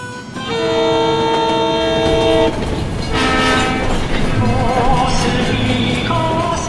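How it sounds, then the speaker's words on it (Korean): A train horn blares loudly in long sustained tones, followed by rumbling and clatter of rail cars as a Seoul-bound train departs from Busan. "동생 준택과 서울행 열차에 몸을 실었다"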